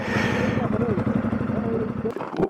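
An Energica EsseEsse 9 electric motorcycle with an offroad build accelerates, its motor whine rising in pitch over a steady rushing drone before cutting off near the end.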